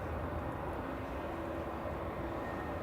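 Airliner engines idling on the runway at Manchester Airport while lined up for takeoff, a steady distant broadband roar with low rumble, even and unbroken throughout, no voices.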